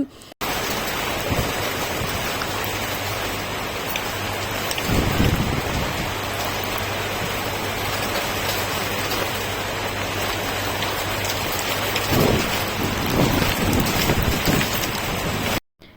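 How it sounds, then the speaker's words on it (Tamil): Heavy rain pours steadily on surfaces after hot weather, a dense close hiss throughout, with low thunder rumbles rolling in around the middle and again near the end. "ஒரு ஆஃப் அன் ஹவருக்கு அப்புறம் செம்ம மழை பெய்ய ஆரம்பிச்சிடுச்சு"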